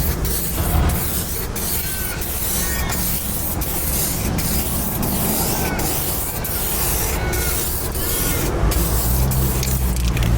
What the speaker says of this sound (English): I like to spray 3 coats of the clear, waiting 10 minutes between coats.